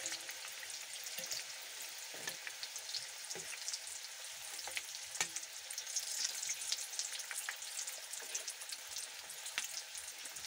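Chicken samosas frying in hot oil give a soft, even bubbling sizzle with scattered crackles, faint and steady throughout, with no speech.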